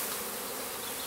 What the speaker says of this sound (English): I've got a bee close near me.